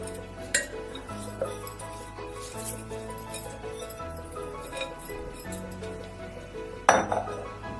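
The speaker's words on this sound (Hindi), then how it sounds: "अब इसको हम कुकर में डाल देंगे और 4 गिलास पानी डाल देंगे" Moong dal khichdi going into a pressure cooker with water poured in, marked by metallic clinks and knocks of utensils against the cooker under a soft pouring wash, with one sharp clank near the end.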